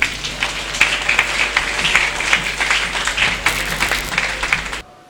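A crowd at a church general assembly, FEPACO Nzambe Malamu 2021, applauds as a dignitary departs: brisk, continuous clapping with sharp individual claps that cuts off abruptly near the end.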